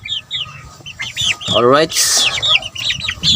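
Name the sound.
chickens clucking on a farm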